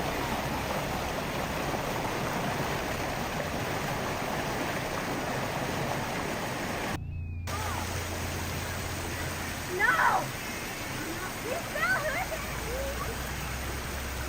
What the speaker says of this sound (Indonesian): terutama suara air gemericik yang kita dengar sepanjang hari